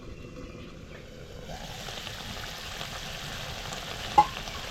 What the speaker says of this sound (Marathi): आग ना आता कमी करायची आहे आणि मस्त असं पॅक झाकण ठेवायचं आणि भाजी छान शिजवून घ्यायची